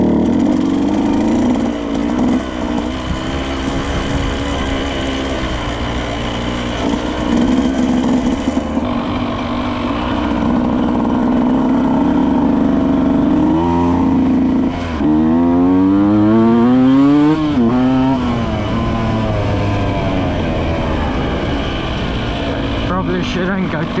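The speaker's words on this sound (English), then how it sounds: "Second gear bump start incoming." A Husqvarna TE 125 motorcycle is bump started in second gear, then the engine catches and revs up and down loudly with rising and falling pitch, with wind noise and a voice talking over it.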